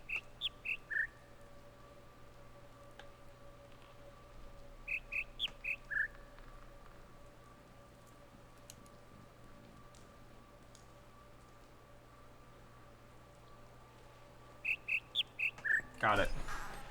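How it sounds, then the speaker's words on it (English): Birds chirp in the video game The Witness, in quick clusters of several high, whistly tweets that return three times over a quiet, steady ambient drone. "Birds are chirping in my fucking ear."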